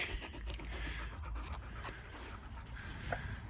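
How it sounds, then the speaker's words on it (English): A dog pants quickly and steadily at close range, the rhythmic breaths continuing throughout. "Good little doggy."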